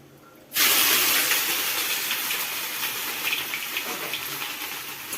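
Ginger paste drops into a hot pan and a loud sizzle bursts out at once, then settles into a steady, bright hiss that carries on to the end.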